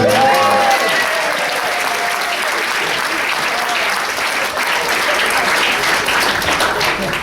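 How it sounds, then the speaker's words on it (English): Wedding guests break into loud, sustained applause, many hands clapping close by in a continuous wash that carries evenly to the end. "So I think that's worth a round of applause for Nadia."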